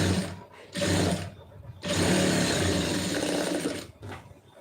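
A sewing machine stitches a seam in cloth, running in two loud bursts of steady mechanical whirring, the longer one lasting over two seconds, with a brief short run at the end.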